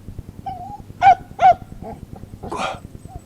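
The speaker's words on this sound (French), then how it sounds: "Mon chien." A dog in a Provençal Christmas nativity play gives short high whining whimpers, two louder cries near the middle and a rougher yelp at the end, heard alone without talk.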